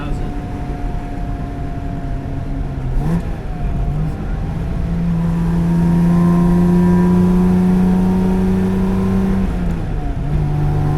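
A 1958 AC Aceca Coupe engine idles and revs up and down toward its 5,000 rpm redline, a steady deep drone with rising and falling pitch, while a voice talks over it.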